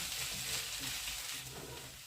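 Steady, quiet sizzling of a grated potato pancake frying in a pan, a continuous soft crackle with no voices.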